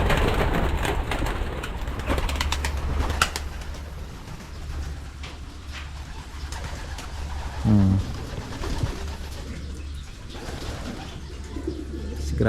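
Pigeons cooing in a loft, repeated soft low coos from several birds, close and fairly loud over a steady background hum, with brief voices now and then.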